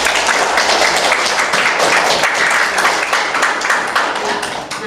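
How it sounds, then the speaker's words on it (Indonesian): A classroom of students applauds a classmate during an English lesson, a dense, loud, continuous burst of clapping lasting about five seconds with a faint murmur underneath. "tepuk tangan dulu"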